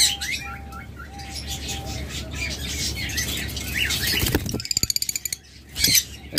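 A pair of cobalt opaline budgerigars chirps close by, with rapid high warbling, squeaky tweets and a quick burst of clicking chatter over faint background hum.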